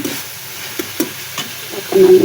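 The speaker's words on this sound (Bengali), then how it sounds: "এগুলো কষাচ্ছি রসুন যা যা লাগে আর দিচ্ছি" Taro stolons and dried fish sauté with garlic in a pan, a steady soft sizzle with a few sharp spoon scrapes and clicks, ending in a louder burst of frying noise.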